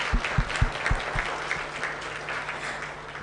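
An audience at an end-of-project conference in East Africa breaks into applause, a steady wash of clapping at moderate distance that begins with a few louder claps and gradually fades.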